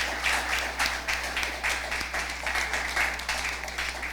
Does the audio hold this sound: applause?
yes